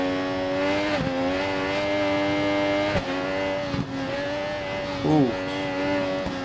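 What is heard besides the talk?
motorcycle engine downshifting in video game RIDE 4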